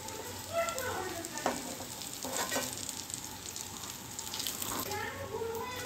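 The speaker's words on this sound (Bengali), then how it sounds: "এরকম কম কম তেল দিয়ে মাছের তেলের বড়া যখন ভাজবেন, একদম কম তেলে ভাজবেন।" Fish oil fritters fry in just a little oil, a soft steady sizzle with occasional spatters and stirring, fairly quiet and close throughout.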